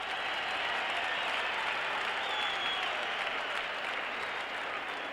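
Fans at County Stadium during a 1978 Lions at Packers football game give a distant, broad roar of applause, a steady crowd wash heard from far off, fairly faint and unbroken.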